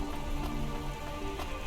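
Steady rain pattering on surfaces in the rainy city of the video game Cloudpunk, a close, even wash of drops with no voices.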